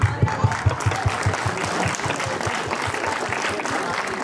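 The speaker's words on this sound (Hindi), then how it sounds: "जोरदार तालियां गुरुजी के लिए।" An audience at a former teacher-student gathering and honour ceremony at an inter college bursts into steady applause for a teacher, with dense massed clapping and a few sharp individual claps sustained throughout, no voices over it.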